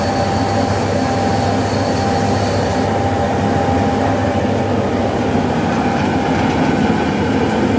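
A rice milling machine runs steadily in a mill, a loud continuous mechanical roar and rumble with a rattling, train-like clatter throughout, no voices.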